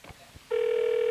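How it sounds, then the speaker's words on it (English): A telephone ring tone comes through a live talk-show call, a steady electronic tone starting suddenly after a few faint soft sounds, loud and unbroken to the end with no talking. "Okay, it's ringing now."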